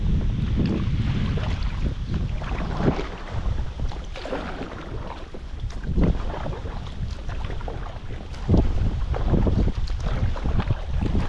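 Strong wind buffets a boat on open water, a steady roaring rush with gusty surges and low rumble throughout, loud and close with no voices.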